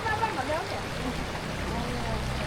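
A small, shallow jungle stream flowing over stones with clear water, making a steady close gurgling rush throughout, with voices talking partly over it.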